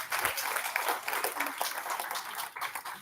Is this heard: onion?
no